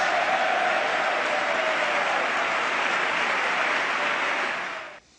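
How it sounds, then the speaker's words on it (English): Steady, dense audience applause from a studio crowd fills the stretch at an even loudness, then cuts off abruptly near the end, with no voices over it. "And that wins them more applause"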